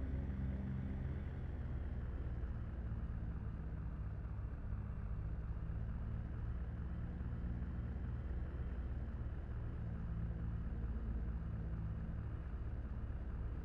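Steady, unchanging drone of a Cessna 172 engine idling at 1000 RPM in the X-Plane flight simulator, a continuous low rumble with no talk.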